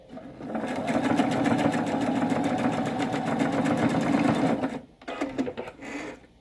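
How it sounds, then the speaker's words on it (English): Sewing machine stitching fabric piping with cording, a loud rapid mechanical chatter running steadily for about four seconds, then a brief stop and a short burst of stitching before it halts. "Now I'm going to go ahead and finish sewing all the way back to where we started."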